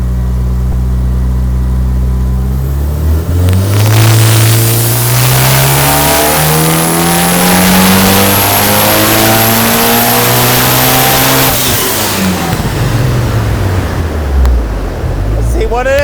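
Mitsubishi EVO IX with a flex fuel tune revving hard on a dyno: the engine climbs steadily in pitch through a long full-throttle pull, then drops away as it lets off, loud and close with a roaring rush.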